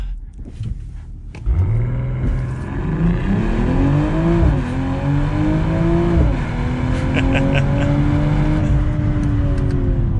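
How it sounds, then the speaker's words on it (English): A 2022 BMW M440i Gran Coupe xDrive launches under launch control, its engine note climbing steeply through several gear changes with brief dips between them. The sound is loud and close, from inside the cabin, with continuous road and exhaust noise. "Really nice launch control, super fluid, very quick car."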